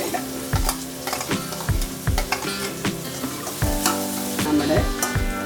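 Onion, green chilli, curry leaves, ginger and garlic sauté for Kerala egg thoran, a loud, constant sizzle broken by repeated scraping and clanking of a spoon stirring the pan, with no voices.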